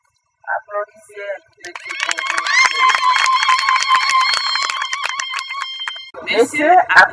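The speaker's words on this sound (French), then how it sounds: "Applaudissez" Wedding guests at a celebration in the Hilton N'Djamena applaud and cheer in a dense, sustained burst of clapping and shouts lasting several seconds, with brief voices before and after.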